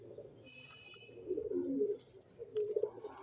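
Domestic pigeons coo in a loft, low throaty calls repeating close by in soft rolling bursts, with faint chirps from other birds in the background.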